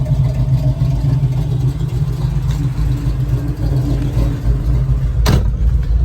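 A 1970 Chevrolet Nova SS engine gives a deep, steady rumble, idling loudly and continuously throughout, with a brief higher burst near the end.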